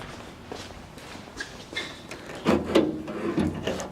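Wooden drawers of a mechanic's roller seat scrape and rub as they are pulled open and pushed shut, a stiff grinding slide with a few knocks.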